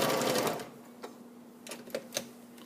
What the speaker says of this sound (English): you can go ahead and stitch that on right through to the end, using your 1/4 inch seam